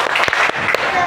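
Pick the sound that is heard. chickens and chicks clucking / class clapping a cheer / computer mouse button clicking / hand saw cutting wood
class clapping a cheer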